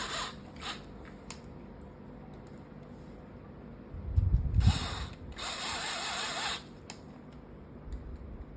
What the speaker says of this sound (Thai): ถ้าใช้ไขควงก็ไขพอตึงมือครับจนสุดแกนนะครับ